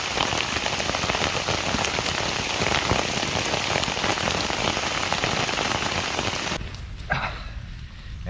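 Small hailstones fall during Storm Ciarán onto a poncho shelter at a campsite, a dense, continuous patter drumming loudly for several seconds before easing off near the end.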